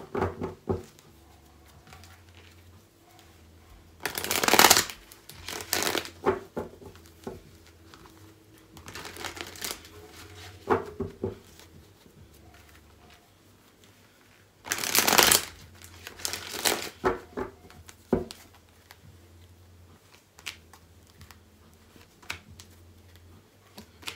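Tarot cards being shuffled in repeated bursts of riffling and flicking, with a few louder shuffles separated by softer handling and tapping, close up in a quiet room.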